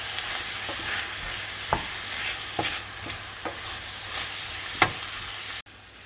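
Fresh tomatoes and sweet corn sizzle steadily in a paella pan for a vegan vegetable paella, with scattered stirring scrapes and clicks over the constant frying hiss and no talking.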